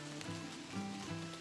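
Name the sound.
rain falling on forest canopy on a hiking trail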